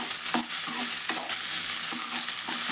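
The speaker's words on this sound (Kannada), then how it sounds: "ಸ್ವಲ್ಪ ಉಳ್ಳಾಗಡ್ಡೆ ಒಳಗೆ ಹಾಕಿ ಹುರಿಯನ್ರಿ" Sprouted horse gram and onion fry in a pan while being stirred, a steady close sizzle broken by regular scraping strokes of the spoon, with no talking.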